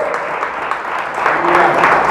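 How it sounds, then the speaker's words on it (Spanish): A church congregation claps loudly and steadily, the applause swelling slightly toward the end with a voice faintly audible beneath it. "Denle fuerte el aplauso a Dios."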